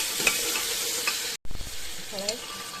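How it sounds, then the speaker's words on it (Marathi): Onion and tomato sauté in a hot pan, a steady bright sizzle with a few stirring scrapes, close and moderately loud, with a brief cut to silence midway before the frying resumes. "कांदा टोमॅटो छान परतून घ्यायचे"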